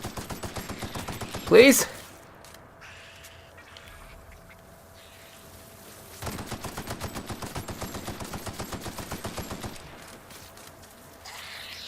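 Turret gunfire in The Outer Worlds comes in two long, evenly spaced rapid bursts of mechanical shots, with a steady hum between them and a person briefly speaking over the first burst.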